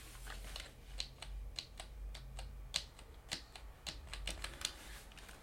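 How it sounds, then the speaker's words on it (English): Typing on a membrane computer keyboard, shown alongside a Corsair Strafe mechanical keyboard, gives a steady run of soft, close key clicks at an irregular rhythm over a low background hum, with no talking. "this is a membrane keyboard, and this is the sound it makes."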